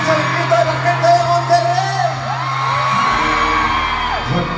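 A large concert crowd at a show in Auditorio Citibanamex, Monterrey, roaring, whooping and shouting loudly and continuously, with music sounding underneath.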